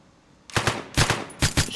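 AR rifle fire in the video game One Armed Robber: loud, close bursts of rapid shots, three quick clusters of sharp reports in under two seconds with no talk.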